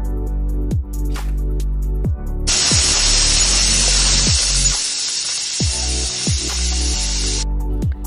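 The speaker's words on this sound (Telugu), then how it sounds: "కుక్కర్ మూత పెట్టి 4 విజిల్స్ వచ్చే వరకు ఉడికించుకోవాలి." A pressure cooker whistles while spinach dal cooks, a loud sustained hissing jet of steam lasting about five seconds, close up, amid lighter kitchen clatter and hum.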